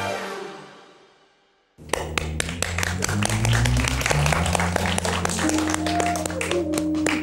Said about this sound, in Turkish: Evet, Elif Hanım'ı alkışlayalım